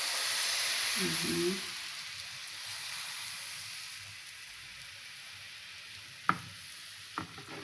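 Chocolate crepe batter poured into a hot frying pan gives a steady, close hiss and sizzle that gradually fades, followed by a couple of sharp knocks of the pan near the end.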